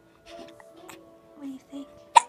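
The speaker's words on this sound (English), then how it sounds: "Oh no, not the hiccups." Several soft hiccups from a person in a quiet room at night, ending in one sharp, louder hiccup; faint background voice murmur between them.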